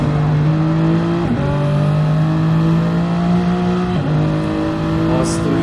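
A Supra and a McLaren race car in Gran Turismo 7 on the Nordschleife, engines droning loud and steady with rising pitch through the gears and a couple of quick shift dips, no voices over them.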